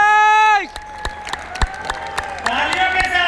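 At a business awards event, a sustained tonal sound cuts off and is followed by scattered, sharp audience claps spread unevenly over a few seconds, with ringing tones and voices underneath.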